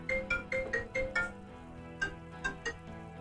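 Phone ringing in Disco Elysium: a tinny, melodic ringtone with quick repeated chiming notes plays in two bursts separated by a short pause.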